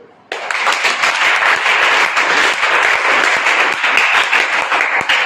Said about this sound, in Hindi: ताली अलग अलग हो रही है